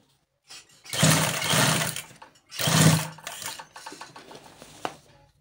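Sewing machine stitching fabric, two loud close bursts of motor whirr around a second long each, followed by quieter intermittent mechanical clicks, no voices.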